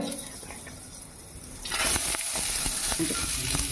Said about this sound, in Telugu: వాటిని ఇప్పుడు ఫ్రై చేసుకుంటాం అన్నమాట.